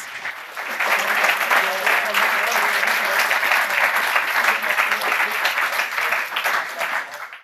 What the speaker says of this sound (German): Erstmal ein Applaus soweit für das erste Projekt des Teams.